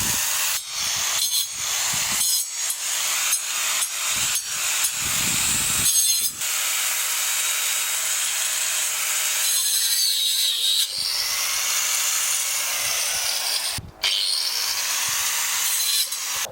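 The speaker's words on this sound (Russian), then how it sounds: "Что-то болгаркой режу покрупнее." An angle grinder cuts through larger tree branches during outdoor land clearing, a continuous loud, harsh whining grind with brief breaks and surges as the disc bites into the wood.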